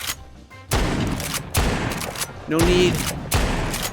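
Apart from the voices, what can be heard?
Hershel's shotgun firing, video game Walking Dead Saints & Sinners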